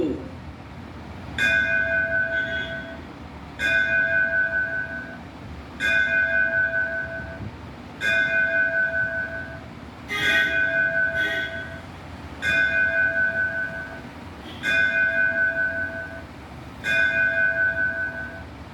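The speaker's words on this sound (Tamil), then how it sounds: "கந்தசாமிபுரம் அருள்மிகு ஸ்ரீ முப்பந்தல் இசக்கியம்மன் கோயில் மணியோசை" A Hindu temple bell in Tamil Nadu is struck eight times at 8 a.m., at an even, unhurried pace, each clang ringing briefly before the next, heard at a moderate distance.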